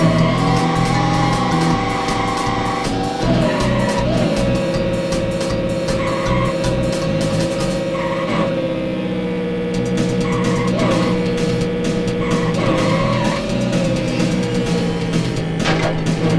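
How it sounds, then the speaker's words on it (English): A kart skidding in Crash Team Racing: a steady, loud engine drone with repeated squealing slides and pitch swoops as it corners, over constant game music, with no talk. "skidding around."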